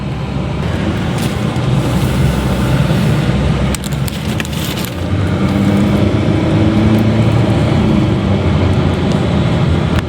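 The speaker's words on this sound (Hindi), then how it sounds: "दिखाते हैं कि with in a second automatic गाड़ी में पिकअप कैसा मिलता है सीएनजी के अंदर" A 2025 Honda Amaze automatic with a CNG fitment accelerates hard on an empty road. Its engine drone and road rumble rise loudly and steadily from inside the cabin.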